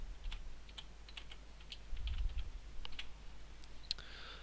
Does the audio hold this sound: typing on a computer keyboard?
yes